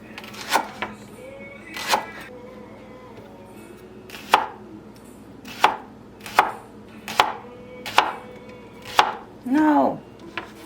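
A knife chops leeks on a board in a kitchen, preparing them for a cabbage and apple stew: about ten sharp, separate cuts at an uneven pace over a low steady hum, the last stroke a longer scraping slice.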